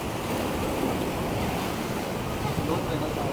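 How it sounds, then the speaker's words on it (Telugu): Rough sea surf roars steadily around rocks, a dense, unbroken wash of crashing waves with some wind, loud and close. "అంత చుట్టూ సముద్రం బీభత్సమైన అలలు"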